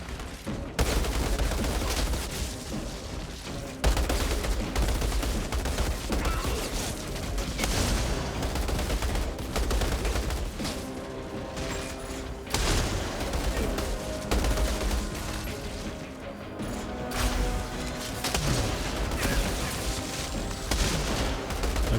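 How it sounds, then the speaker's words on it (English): Sustained automatic fire from a light machine gun in the shooter game Outriders, loud and continuous in dense bursts with brief pauses, layered with heavy impacts and game effects. "this LMG is actually decent"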